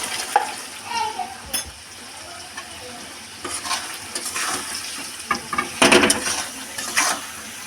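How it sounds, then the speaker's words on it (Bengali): Spices, with mustard and cumin paste, salt and turmeric, sauté and get stirred in a pan for a potato, pea and rui fish curry, giving a steady sizzle broken by scraping stir strokes, close and moderately loud. "ভালো করে কষিয়ে নেবো।"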